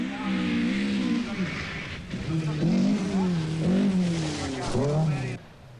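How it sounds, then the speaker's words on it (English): A Talbot Sunbeam Lotus rally car drives a 1981 World Rally Championship spectator stage at Donington Park, its engine revving and rising through gears as it passes nearby, with a commentator speaking over it. "Toivonen's Talbot Sunbeam Lotus is spearheading the Coventry-based team's attack on the manufacturer's World Championship."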